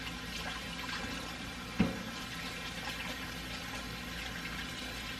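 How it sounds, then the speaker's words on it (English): Running tap water in a home kitchen pours in a steady, fairly quiet hiss for several seconds while hands are washed, with one brief clunk partway through. "Now let me wash my hands real quick"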